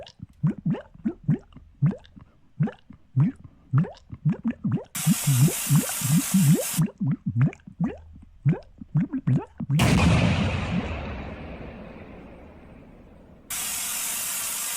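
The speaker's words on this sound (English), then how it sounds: "So as long as you're outside of the radius, the bomb does not kill the player." A tile-based video game bomb goes off with a burst of noise that fades out slowly, preceded by a rapid run of short synthetic blips and a brief hiss, with another hiss near the end.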